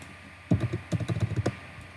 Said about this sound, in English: I'm really having trouble with typing zeros today.